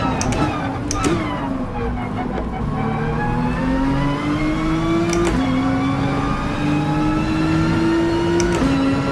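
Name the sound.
car engine driving in Gran Turismo Sport video game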